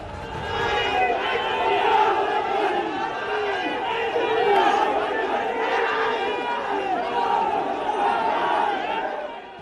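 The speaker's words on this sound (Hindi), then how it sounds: "भीड़ का एक पूरा हुजूम नारेबाजी करते हुए आगे बढ़ रहा है।" A large protest crowd in Jammu, outside Farooq Abdullah's house over the Roshni scam, marches forward chanting slogans, with loud, rhythmic massed shouts and chatter that stay close and continuous.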